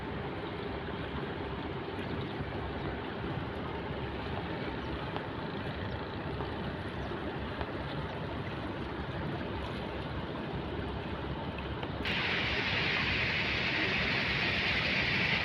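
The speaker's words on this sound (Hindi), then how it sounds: "कितना फोर्स से पानी निकल रहा है।" Water gushing forcefully through a dam on the Narmada river, a steady loud roaring rush that fills the whole clip and grows slightly brighter and harsher toward the end, with no voices.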